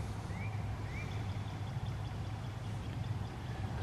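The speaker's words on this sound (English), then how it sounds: "this water, I can tell you, is at least knee-deep, if not waist-deep, especially that section there that's flowing fastest into the fields" Fast-flowing floodwater surges across a wildlife sanctuary trail in spring, a steady, broad rushing wash of water heard up close and continuously without voices.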